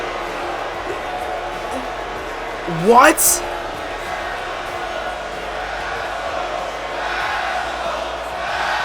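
An arena crowd in the WWE 2K23 wrestling game roars as a sustained background din, swelling in a brief loud whoop midway, with someone speaking over it.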